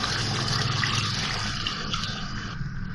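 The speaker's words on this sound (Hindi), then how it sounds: "अब इसमें गलाने के लिए मैं पानी डालूँगी। 1 कप पानी डाल रही हूँ।" A cup of water is poured into a pot of beef achar gosht, a close, continuous splashing trickle that lasts a few seconds and eases slightly toward the end.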